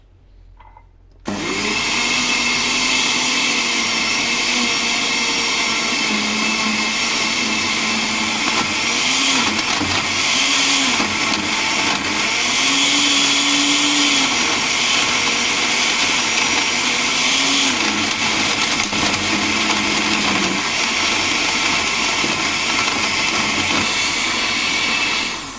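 An electric blender grinds roasted ground almonds, starting abruptly and then running as a loud, continuous motor roar with a slightly wavering whine for over twenty seconds.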